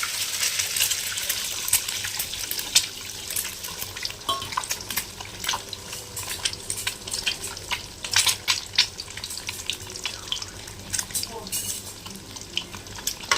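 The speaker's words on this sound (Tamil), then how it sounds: "அந்த எட்டு முட்டையை அப்படியே ஊற்றிக்கலாம் எண்ணெய்க்குள்ளே ஊற்றிக்கலாம்" Eight eggs poured into hot oil in a pan for chicken fried rice, sizzling and crackling steadily with bursts of splattering and scraping, fairly close with no talk over it.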